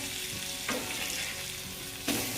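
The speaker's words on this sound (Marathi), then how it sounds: "हे बघा एवढ्या तेलामध्येच आता आपण फ्राय करू मस्त." Surmai fish fries in a pan of oil, giving a steady close sizzle with a couple of louder crackling bursts.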